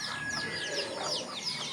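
Chickens cluck and squawk continuously, several birds close by, with a faint high tone in the background.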